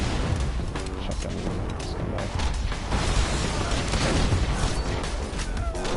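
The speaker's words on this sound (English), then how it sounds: "Shotgun." Shotgun fire in the video game Borderlands 2 amid continuous chaotic combat noise, dense booming blasts and mechanical clatter filling the scene at steady high loudness.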